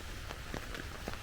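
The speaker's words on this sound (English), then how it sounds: "So yeah, it started raining again" Steady rain falls at Brandywine Falls in Cuyahoga Valley National Park, a constant diffuse hiss with scattered soft drop taps, moderately loud and close, with no voices.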